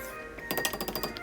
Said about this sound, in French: Bien remuer, assurez-vous que la casserole ne brûle pas